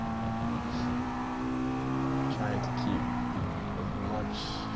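Race car engine in GT Sport during an FIA manufacturers online race, a steady high-revving drone with shifting pitch as the car holds speed, heard under a commentator talking.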